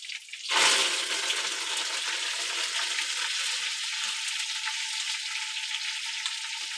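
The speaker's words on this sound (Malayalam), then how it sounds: "പിന്നെ നമ്മുടെ ചിക്കന് ഇത്രയും റോസ്റ്റ് ചെയ്തെടുക്കുകയാണ്." Chicken hits a hot pan and sizzles as it roasts, a sudden loud burst of frying that settles into a steady, close crackling hiss with no talk.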